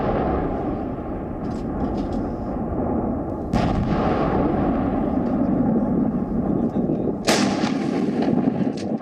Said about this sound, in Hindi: दिन रात चल रही बमबारी के धमाके